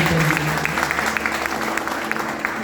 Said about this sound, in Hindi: इसलिए मैं चाहूँगा कि एक बार जोर ताली बजाएं